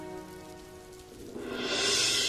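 Heavy rain pours down in a strong wind at midnight, a steady hiss that swells louder in the last second, with no voices.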